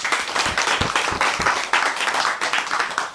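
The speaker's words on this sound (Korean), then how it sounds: "우리 박수 한번 합시다." A church congregation claps together at a Korean Bible college service, a short burst of hand claps with a few sharper individual claps standing out, filling a room at moderate loudness.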